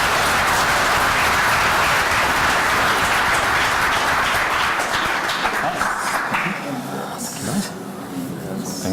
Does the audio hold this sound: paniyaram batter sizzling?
no